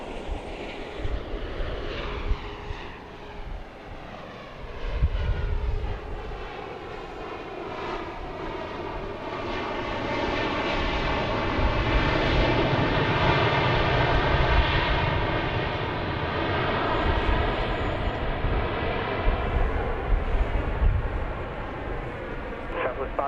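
A Southwest jet airliner landing at Dallas Love Field makes a broad, distant roar that swells and holds steady, heard faintly beneath air traffic control radio talk.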